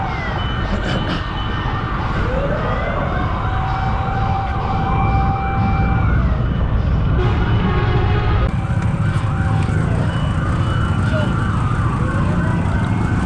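An ambulance siren wails continuously over steady, congested afternoon traffic rumble, its rising and falling tones sweeping back and forth, fairly close and loud throughout.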